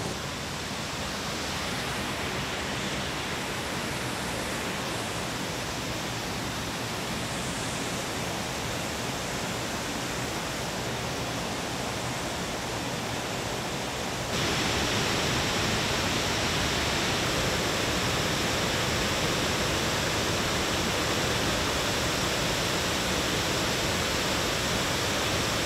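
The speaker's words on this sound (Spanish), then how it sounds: "una cortina de agua de 16 metros de caída y uno de los lugares más visitados del Bierzo" A 16-metre curtain of falling water at a much-visited spot in El Bierzo roars as a dense, constant hiss. It is loud and close, with no voices, and grows slightly louder partway through.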